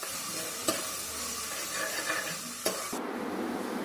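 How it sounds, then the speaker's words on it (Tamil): Ginger garlic paste sizzling with cardamom and curry leaves in hot oil, stirred with a couple of sharp utensil scrapes against the pan, then the sizzle drops away abruptly near the end. "இந்த ஸ்டேஜில் இஞ்சி பூண்டு பேஸ்ட் ஆட் பண்ணிவிட்டு நல்லா வதக்கி விட்டுக்கோங்க."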